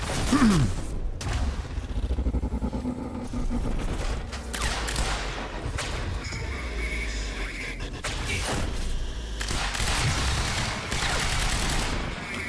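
Gunfire from the video game Quantum Break comes in repeated loud bursts and single shots over a dense, busy backdrop of game combat noise.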